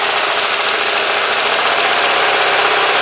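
A small engine runs on a vapor carburetor with a steady, fast idle putter, loud and close, holding an even rhythm with no pauses and no voices.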